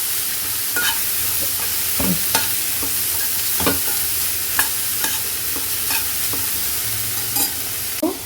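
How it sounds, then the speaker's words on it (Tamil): Onions and spices sautéing in a pan for cassava adai, a steady close sizzle with repeated scraping stir strokes of a spoon throughout, no voices. "நல்லா ஒரு ஃபைவ் மினிட்ஸ் நல்லா வதக்கி விடுவோம்"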